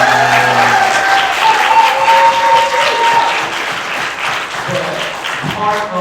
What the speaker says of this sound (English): let's give a round of applause for Tonia.